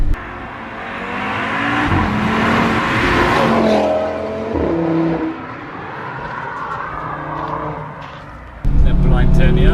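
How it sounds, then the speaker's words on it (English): Audi RS3 five-cylinder engine pulling hard under acceleration, rising engine tones sweeping up through the gears with a loud surge near the end, heard from inside the car with some talk over it. "You can't beat the 5-cylinder engine"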